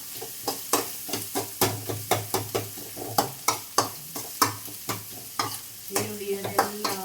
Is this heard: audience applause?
no